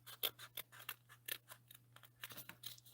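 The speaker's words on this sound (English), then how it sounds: "I am just going to cut that off. So I'm just going to snip in here." Scissors snipping off excess paper while making a floral card, a quick series of about a dozen crisp close cuts in an uneven rhythm over a low steady hum.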